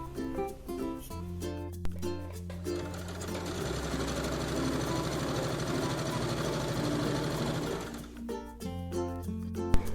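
Steady motor hum and rapid needle chatter come from a sewing machine stitching the side seams of a long Georgette skirt, with a sustained run in the middle, briefer bursts at start and end, and a few sharp clicks.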